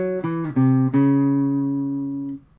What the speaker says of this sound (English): lick number 2 sounds like this.